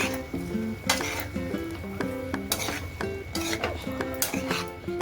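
Chopped onion and coriander, with turmeric, salt and oil, are stirred in a pan for green chicken, making repeated metallic clinks and scrapes over a soft sizzle at close range, with a tuneful backing running underneath.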